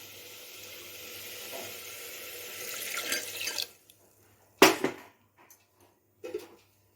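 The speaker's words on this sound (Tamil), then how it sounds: "நான் மிக்சியை கழுவி கொஞ்சம் தண்ணி ஊற்றிக்கிறேன்." Water runs into a mixer grinder jar as it is rinsed in a home kitchen, a steady splashing stream that builds over a few seconds, then stops, followed by a sharp clatter and a few small knocks.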